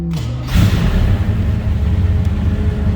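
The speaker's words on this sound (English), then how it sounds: "Let's go ahead and fire this up so you can hear it run." A 1982 Chevrolet Silverado K10 4x4 short box with a big block engine cranks briefly, then catches and settles into a loud, deep rumbling idle, close by with no talking.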